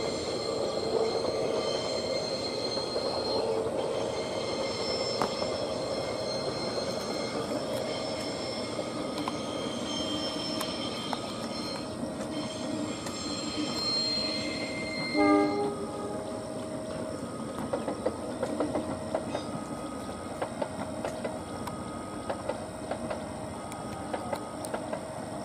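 A KLB passenger train rolls past a level crossing in a long, steady rumble of rail wheels. Squealing tones rise over it, and a brief horn-like blare sounds midway, with no speech.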